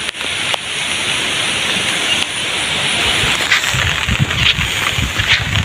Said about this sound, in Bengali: প্রায় ক্ষেতের কাছে চলে আসছি, এখনো বৃষ্টি হচ্ছে